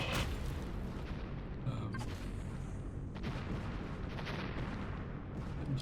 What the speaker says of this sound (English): It's my pulse rifle.